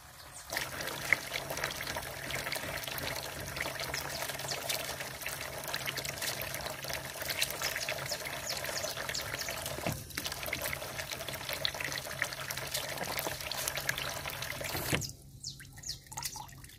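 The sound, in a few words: water running from a faucet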